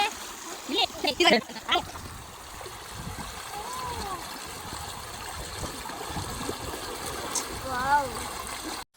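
People splash and play in shallow stream water in a village, with several loud bursts of splashing early on, then steady trickling and moving water under scattered voices and chatter throughout.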